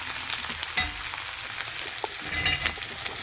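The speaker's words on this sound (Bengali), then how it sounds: "মাশরুমটা ভেজে নেব।" Sliced mushrooms and onion fry in a pan with a steady bright sizzle, broken by a few sharp spatula taps and scrapes over about three seconds, with no voices.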